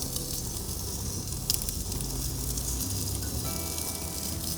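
A butter-basted T-bone steak sears on a grill for a reverse sear. A continuous, even hiss and sizzle with a crackling texture stays close and steady, with a brief tap midway.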